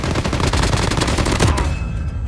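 Rapid automatic gunfire from a weapon in Call of Duty Mobile, loud and sustained for about two seconds of dense, rattling bursts, then cutting off abruptly into a brief tail.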